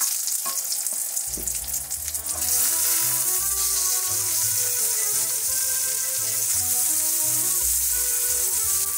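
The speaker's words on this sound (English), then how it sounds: "give them one last little saute. We're gonna do it without any liquid, just the Brussels sprouts in there." Brussels sprouts saute in a pan without liquid aboard a boat, a loud, close, steady hiss of frying that swells after a few seconds of stirring clatter, with a brief murmur from a person.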